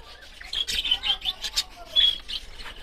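A pet pair of budgerigars kept with their chicks chirps in quick, bright bursts, several short tweets and squawks close by, with faint background noise between calls.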